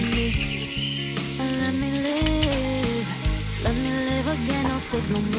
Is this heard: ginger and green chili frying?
yes